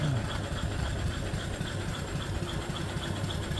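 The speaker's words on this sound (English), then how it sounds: "The big old flywheel runs real true." An antique steam engine runs its big flywheel on an overhead line shaft setup, producing a soft, low, rhythmic mechanical chugging that stays even and continuous throughout.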